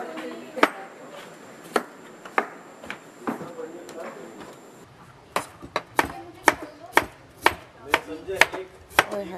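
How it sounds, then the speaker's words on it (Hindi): Large onions chopped on a board, a series of sharp knife knocks, loosely spaced at first and then coming faster and crisper in a quick rhythm, with faint room noise underneath. "इतने बड़े प्याज मैं इनको ना चॉप करती हूँ"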